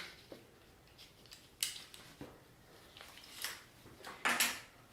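Scissors snip through medical tape to secure a small 22G IV butterfly needle in a clinical setting, with several short, crisp cuts and tape handling sounds at close range in a quiet room.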